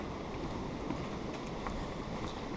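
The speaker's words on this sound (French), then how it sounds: "il est sévère le vent" Strong wind buffets the microphone at an old fort in Belgium, a steady, loud broadband roar with rumbling gusts that runs unbroken throughout, with no speech.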